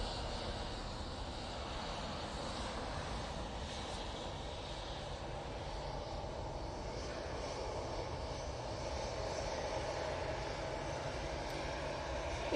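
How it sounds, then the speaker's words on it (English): A steady, distant roar of an EasyJet Airbus A320ceo departing Manchester Airport, a broad jet-engine rumble holding level for the whole stretch without any voices. "EasyJet A320 CEO going off to Corfu"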